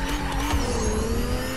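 Futuristic car drifting in Fortnite's creative mode, a steady synthetic engine drone with a high tire squeal layered on top, loud and continuous throughout with no talking.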